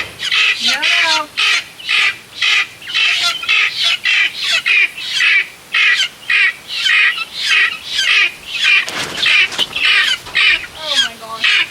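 Loud, close chickens and guinea fowl squawking repeatedly in rapid harsh bursts, a rhythmic chorus of fowl calls that goes on without pause.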